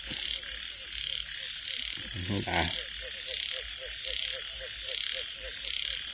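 Frogs croak in steady, rhythmic pulses on a night after rain, with a dense, continuous chorus of chirping insects behind them. The calls are fairly close and loud throughout.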